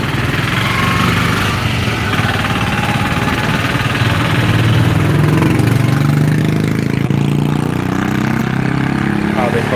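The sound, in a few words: Royal Enfield Bullet motorcycle engine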